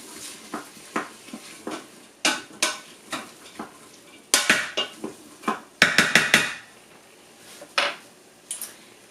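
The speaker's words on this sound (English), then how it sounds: "Mix that up a bit." A spoon stirs gizzards in a cooking pot, making close, loud, irregular scrapes and clanks against the metal. The pan hisses faintly underneath the stirring.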